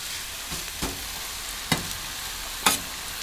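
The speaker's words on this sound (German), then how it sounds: "Dann legen wir uns schon mal den Bacon mit drauf." Bacon and onions sizzling on a barbecue grill, a soft steady fry broken by a few brief louder crackles and scrapes.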